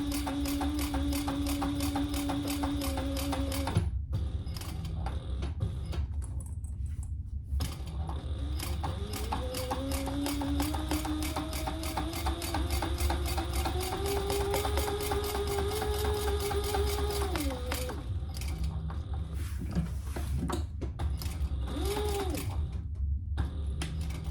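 A sewing machine stitching a mini backpack, its needle chattering in a fast even rhythm with a humming motor, pausing briefly twice before running on steadily, close by.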